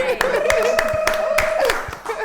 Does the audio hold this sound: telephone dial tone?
no